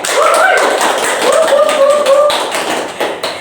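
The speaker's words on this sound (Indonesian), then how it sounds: "Tepuk tangan buat kita semua." A small group in a counseling class claps together, a dense run of overlapping hand claps lasting a few seconds and gradually thinning out, heard close and fairly loud.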